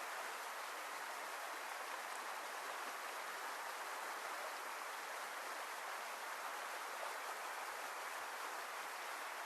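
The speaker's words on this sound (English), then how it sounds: "sounds of the river, the wind and the birds." A cold mountain river flows in a steady, unbroken rush of water that fills the whole stretch evenly; no distinct birds or wind gusts stand out.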